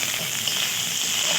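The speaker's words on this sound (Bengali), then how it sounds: "কড়াইয়ে আমি কিছুটা কুচনো পেঁয়াজ দিয়ে দেবো।" Chopped onion frying in oil in a kadai, early in making a rich nawabi-style chicken dish; an even, close, steady sizzle without pause.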